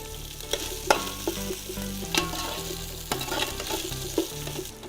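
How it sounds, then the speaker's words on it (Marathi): Whole spices fry in a pan with a steady, close sizzle, broken by a few sharp scrapes and clicks of a spoon stirring across the metal. "खडे मसाले छान फ्राय झालेले आहेत"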